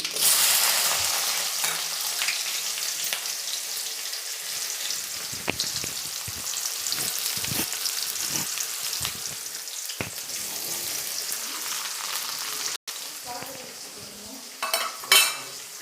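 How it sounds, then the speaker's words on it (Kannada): Chopped large onion frying in oil with urad and chana dal for masala upma, a steady close sizzle running throughout with scattered clinks of a spoon stirring against the pan. "ಈಗ ಈರುಳ್ಳಿ ಕಟ್ ಮಾಡಿರೋದು ಒಂದು ಈರುಳ್ಳಿ ದೊಡ್ಡದು ಹಾಕ್ತಾಯಿದ್ದೀನಿ"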